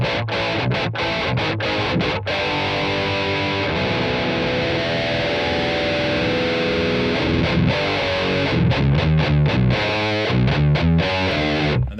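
A heavily distorted electric guitar plays through a tube amp with a distortion pedal, with sustained crunchy chords and then choppy, rhythmic strummed bursts, loud and close.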